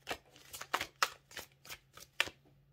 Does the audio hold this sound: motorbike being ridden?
no